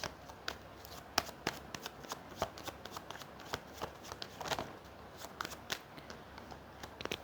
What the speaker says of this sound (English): Give me two more cards for the Knight of Cups here as advice.